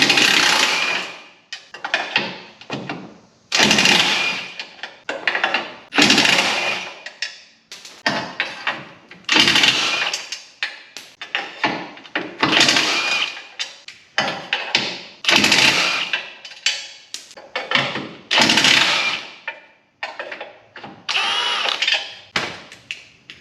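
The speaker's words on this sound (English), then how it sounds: "next I'm going to take out these 8 12mm bolts that hold the crash bar on" Eight 12mm bolts come out of the crash bar on a Nissan 370Z, with repeated loud, choppy bursts of a power tool whirring in short runs and brief pauses between them.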